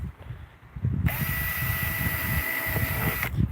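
A power drill with a titanium bit bores into extruded aluminum. The drill spins up with a sudden high-pitched whine, holds it steadily for a couple of seconds, then cuts off, preceded by low handling noises.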